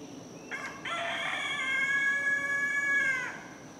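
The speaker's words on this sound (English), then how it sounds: "The wild rooster of the Silver Comet Trail." A wild rooster on a wooded walking trail crows once in a drawn-out, strained call, fairly close and clear against quiet background hiss.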